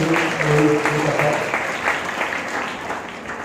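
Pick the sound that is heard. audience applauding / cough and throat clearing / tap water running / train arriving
audience applauding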